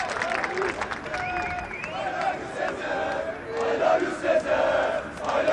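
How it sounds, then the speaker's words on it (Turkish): Fenerbahçe supporters at a Samandıra training ground chant a player's name, rhythmic crowd voices rising and falling with scattered clapping, moderately distant under a commentator's voice. "Şimdi Caner Erkin ismi tezahüratlar şeklinde taraftarlarca söyleniyor"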